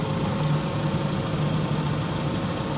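A Saturn SL1 engine idles steadily at close range, a smooth, even hum with a low tone running unchanged throughout, no voices.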